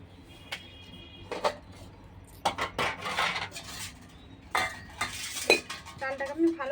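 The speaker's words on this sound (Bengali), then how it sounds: "উনুনটা জেলে নিয়েছি, কড়াটা বসিয়ে দেবো।" A metal wok (karai) is set down on a lit clay stove, giving a few scattered metallic clanks and scrapes, fairly close, with kitchen clatter between them and no speech.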